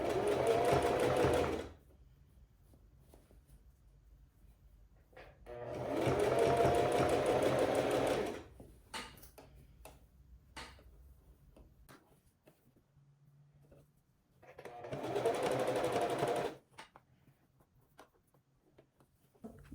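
A sewing machine stitches a dress fold in three distinct bursts, each lasting about two to three seconds, with quiet gaps between them. The motor whirs steadily and close by, and no one speaks.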